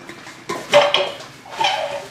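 A pan is handled in a home kitchen while making Turkish flour halva, giving a few short clattering knocks of metal cookware at close range, with quieter shuffling between them and no speech.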